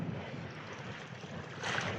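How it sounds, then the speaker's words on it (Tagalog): Wind rushes steadily outdoors, a soft but broad roar with a brief gust swelling near the end. "Lakas pa ng hangin"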